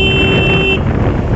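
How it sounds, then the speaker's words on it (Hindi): A motorbike horn honks in one loud steady blast on a hilly jungle road, cutting off partway through while wind and engine noise continue underneath. "तो हमने बजा दिए हैं हॉर्न।"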